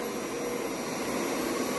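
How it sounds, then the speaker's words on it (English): A Hoover Spin Scrub 50 FH50150 carpet cleaner works over a single dirty spot on carpet, giving a steady, fairly quiet motor drone with a whooshing airflow that holds even from start to finish. "then just keep vacuum moving to move the vacuum"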